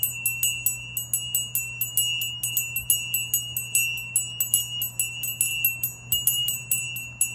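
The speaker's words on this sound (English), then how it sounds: "I'm going to ring the bell because I like to clear the energy" A small bell struck repeatedly in a quick, steady rhythm, each bright ring decaying under the next, over a low constant hum with no talking.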